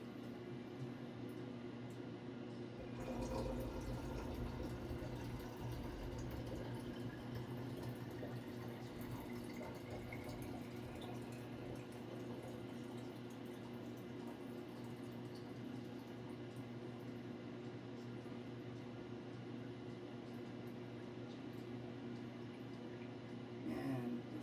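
Film processing chemicals for Arista E-6 being rinsed and poured from a developing tank: a faint, continuous run of pouring liquid over a steady low hum, with a sharper splash early on.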